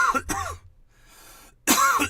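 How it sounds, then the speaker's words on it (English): A couple of harsh, chesty coughs up close, a short stretch of soft hiss, then another loud burst of coughing. "Listen to my cough."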